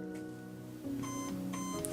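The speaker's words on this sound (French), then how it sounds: "la réplique a fait des petits bips, donc ça nous indique bien que ça a détecté la batterie" Plugging a battery into an Umarex HK416 F-S airsoft electric rifle sets off its MOSFET: a short sequence of two faint, tonal electronic beeps, close but quiet against a low background hum.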